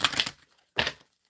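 Life purpose tarot deck being shuffled in the hands, two short papery riffling bursts separated by a brief pause, close and fairly quiet with no talk.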